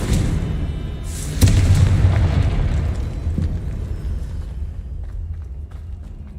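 A deep, rumbling Confringo spell explosion in the Hogwarts Legacy video game, with a sharp blast followed by a long rolling boom that slowly fades away.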